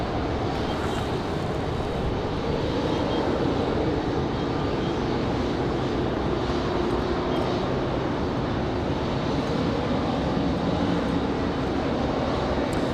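Air France airliner departing Raleigh Durham airport, a steady loud roar of jet engines that holds evenly throughout, broad and continuous with no voices over it.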